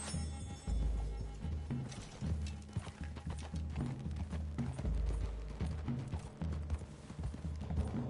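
Horses galloping through trees in Red Dead Redemption 2, a loud, close, rapid clip-clop of hooves pounding in a steady running rhythm throughout, with creaking tack mixed in and no voices.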